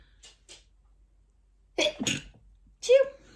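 Two quick sneezes burst out close by in a quiet room, followed shortly by another sharp, voiced sneeze.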